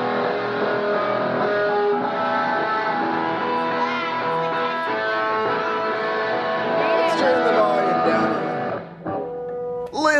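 Sustained distorted electric guitar chords ring loud and steady, with a sharp percussive knock near the end as the tone briefly cuts out, then returns.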